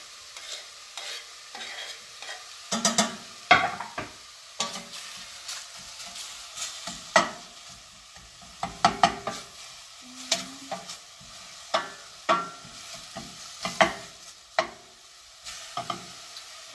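Mushrooms and green onions stirred in a pan for a mushroom miso soup: repeated close scraping strokes of a utensil against the pan, irregular in rhythm, over a faint steady sizzle, with no talking.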